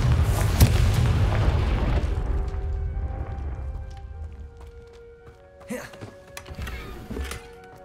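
A Confringo spell from the Hogwarts Legacy video game lands as a deep, booming explosion that rolls off into a fading rumble, followed by a few sharper magical cracks and pops.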